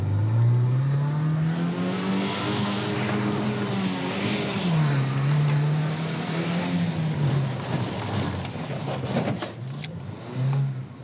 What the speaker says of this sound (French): Il multiplie les coups d'accélérateur.